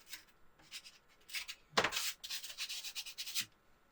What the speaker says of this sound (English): I'm just going to notch away some of the corners